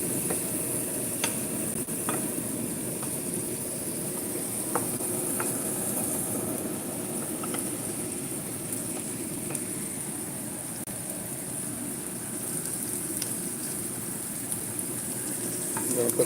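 Eggs with frozen green peas sizzling in a frying pan, a continuous close crackle with occasional sharp pops and spits over a steady low hum.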